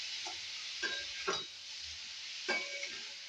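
Pea stuffing with garlic and coriander stirred in a pan, a few soft scraping strokes and light taps over a faint background sizzle.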